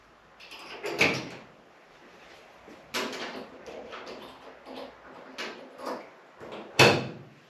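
On a 1978 Lincoln fitted with hood pins, the hood is raised and dropped shut a few times, giving a handful of separate clunks and latch thuds with soft creaks between them, close by and with no talking.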